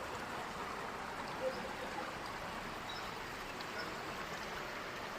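Water of a river flowing beneath a street grate, a steady, soft broadband rush and trickle holding even throughout, fairly quiet and unbroken, with no voices over it.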